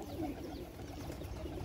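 A domestic flying pigeon gives soft, low, rolling coos, faint and close, with a quiet hum of surroundings behind it.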